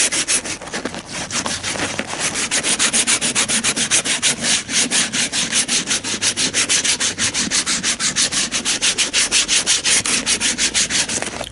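Rubber weatherstrip on a 1978 Lincoln Mark V being shaved and sanded into a rounded shape, giving a close, steady run of quick rhythmic rasping strokes with no talking.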